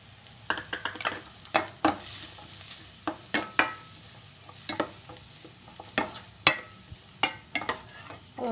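Chopped onion sizzles in a pan with ginger and green chilli for vegetable upma, a low frying hiss under repeated quick clacks and scrapes of a spoon stirring against the pan.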